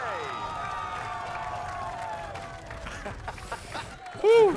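A crowd cheers and roars at a Valorant esports match during a VCT Americas Kickoff watch party, a steady loud wash of voices with a sharper burst of shouting near the end.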